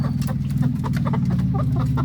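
Chickens cluck and murmur close by beside a creek in a dense, continuous chatter, with a low hum running steadily underneath.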